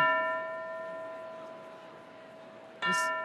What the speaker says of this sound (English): This was a bell that we start